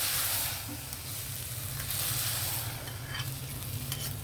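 Ridge gourd and chana dal curry stirred in a hot pan, a steady sizzling hiss with scraping and stirring strokes running throughout, fairly close and even in level.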